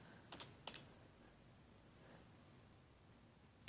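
A few faint, scattered keystrokes tap on a computer keyboard in a quiet room, ending with a sharper click.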